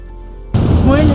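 Heavy rain suddenly roars in through an open car window during a tornado storm, after a quiet hum, a loud, close, splashing rush with a voice faintly audible beneath it.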